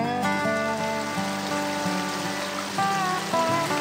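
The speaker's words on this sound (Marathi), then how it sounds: "धबधब्याचा आवाज कानावरती पडतोय" Steady, full rush of a monsoon waterfall near Chiplun spilling over rocks, a continuous broadband roar with no pauses, fairly loud and close, with faint tonal sounds layered over it.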